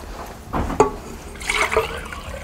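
Water is poured into a clay pot while preparing aamras, mango pulp dessert, giving a short splashy gurgle with a few bursts of trickling and filling over about two seconds, close by with no talking.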